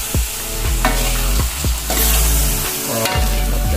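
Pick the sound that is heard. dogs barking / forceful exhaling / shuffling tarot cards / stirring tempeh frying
stirring tempeh frying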